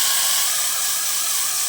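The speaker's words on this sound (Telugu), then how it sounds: "తాలింపు వేస్తున్నానండి." Tempering spices sizzle in hot oil for mango dal, a steady, loud broadband hiss with no pauses, heard close up and alone.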